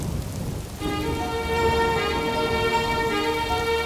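Steady rain falls, a dense hiss of drops on surfaces, with a sustained tonal hum rising beneath it partway through.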